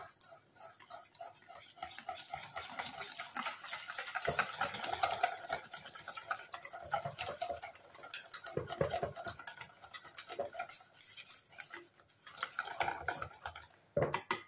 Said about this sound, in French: Et vous mélangez le tout.